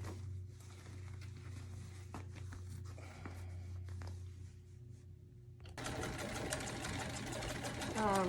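A vintage Singer 15-88 sewing machine stitches faux leather pants at the inseam with a soft, steady mechanical whir and rapid needle chatter, then a sharper, louder clattering run near the end.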